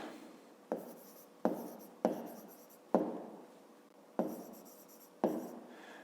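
Pen writing on paper while working a fifth-grade math exercise, heard as six distinct scratchy strokes spaced roughly a second apart, each a sharp onset that trails off, close and fairly quiet with no talk.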